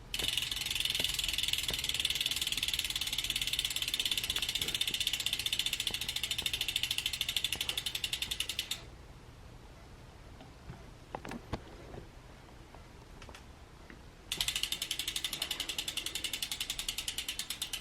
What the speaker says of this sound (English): here is a hub test, so you can hear what the hub sounds like.